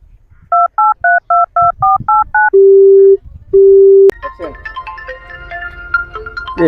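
A phone number is keyed in: eight quick two-tone dial beeps in steady rhythm, then two long held tones with a gap, followed by a brief burst of ringing tune or music, close and loud.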